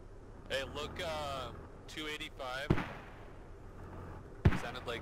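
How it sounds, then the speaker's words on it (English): Stryker armored vehicle firing in the Squad video game, two sharp distant reports heard between stretches of radio-style talk, each a single punchy crack with a short tail. "Sounded like a striker."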